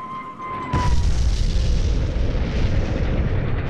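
A bomb released from a dive-bombing aircraft detonates in a loud, deep boom that swells suddenly after a faint tone and then rumbles on heavily without fading.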